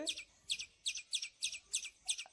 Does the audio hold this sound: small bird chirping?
yes